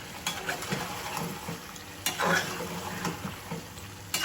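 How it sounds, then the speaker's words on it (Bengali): A spoon scrapes and stirs snakehead fish curry with potatoes and snake gourd in a pan. Soft, irregular scraping strokes sit over a quiet, steady simmer, with a few sharper knocks against the pot. "একটু নাড়াচাড়া করে দিই"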